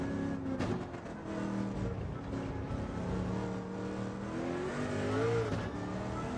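A racing car engine in a sim racing video game revs and whines through gear changes, loud and continuous, with other engines droning around it.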